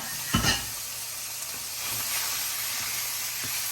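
Chopped meat browning in hot olive oil in a pan for slow cooker chili, a loud initial sizzle and clatter as it goes in, then a steady close hiss of frying.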